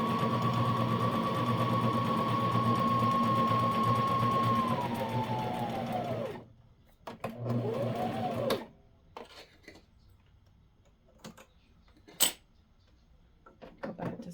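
A home sewing machine stitches a wool diaper cover with a steady motor whir for about six seconds and slows down. A short second burst of stitching follows, then quiet handling clicks and taps.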